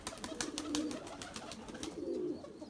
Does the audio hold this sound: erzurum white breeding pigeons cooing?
yes